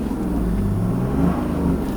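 A 1997 Mercedes-Benz E300 diesel running on vegetable oil hums steadily up close, a low, even engine drone with a faint rise in pitch partway through.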